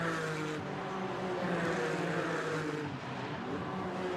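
Porsche Cayman race cars in the Sprint Challenge GB round at Brands Hatch roar past in a steady, dense engine drone with layered revving tones, loud and sustained throughout.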